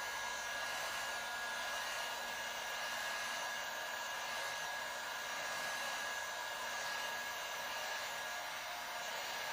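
Heat gun post-heating vinyl wrap on a Ski-Doo Summit 850 snowmobile, a steady close airy blowing roar with a faint whine, continuous and unbroken throughout.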